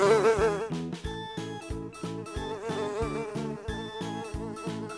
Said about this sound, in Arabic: لا تزعجينا مرة أخرى أيتها الذبابة